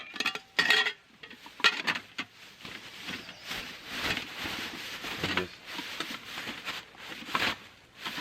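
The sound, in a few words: tongs being put into a sooty pan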